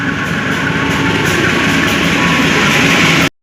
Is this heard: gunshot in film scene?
no